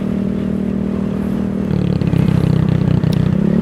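Venom X18 motorcycle engine running steadily under riding, a continuous low drone that swells slightly louder partway through, with faint mechanical clatter and no voices.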